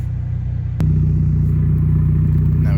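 A 2010 Mitsubishi Lancer Evolution GSR fitted with a MagnaFlow exhaust settles into a steady, deep, throbbing idle after a sharp click, heard up close and loud from outside.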